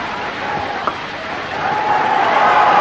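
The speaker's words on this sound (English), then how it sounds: "And the anticipatory clapping starts" A cricket stadium crowd claps and murmurs in anticipation as Sachin Tendulkar nears his first ODI century, a broad steady wash of applause and voices that swells toward the end.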